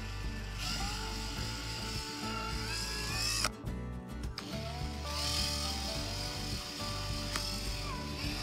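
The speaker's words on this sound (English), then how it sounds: "drill the 3 holes according to this template" A power drill whirs in bursts, drilling holes to mount a Starlink antenna on a sailboat, winding up and down in pitch, with mechanical clatter and a brief quiet gap between runs.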